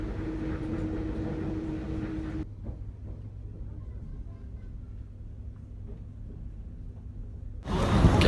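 A regional train heading west toward Marseille rumbles steadily from inside the carriage, a low continuous hum with a quieter stretch in the middle and a sudden louder roar near the end.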